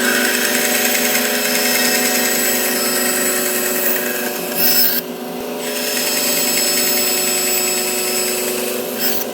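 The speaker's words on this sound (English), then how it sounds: "I can come over here to the King bandsaw" A King bandsaw slices through walnut, giving a loud, steady, continuous cutting whine that dips briefly partway through before resuming at full strength; no one speaks.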